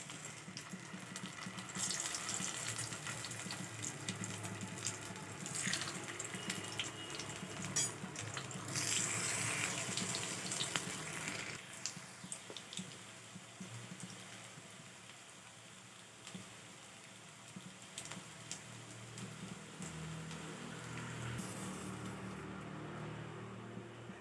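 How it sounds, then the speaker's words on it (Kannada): Raw banana slices fry in hot coconut oil in a pan, giving a steady close crackling sizzle, like light rain, that fills the whole stretch with small pops throughout. "ಎಣ್ಣೆ ಬಿಸಿಯಾಗಿದೆ. ಈಗ ಒಂದೊಂದೇ ಈ ಥರ ಬೇಯಿಸ್ಬೇಕು, ಬೇಗ ಬೇಯುತ್ತೆ."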